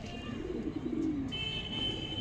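In a pigeon loft, a single low rolling coo rises and fades near the middle, set against steady background noise and a thin high tone that enters partway through.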